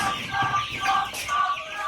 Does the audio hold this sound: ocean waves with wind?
no